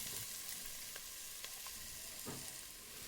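Onions with garlic and ginger frying in a pan for an adzuki bean and pumpkin curry, a steady soft sizzle with a few faint clicks of stirring, no voices.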